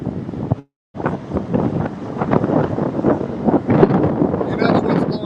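Strong wind buffets the microphone outdoors beside a motorcycle build at a Harley-Davidson dealership, a steady rumbling roar with gusts swelling louder toward the end and a brief dropout near the start.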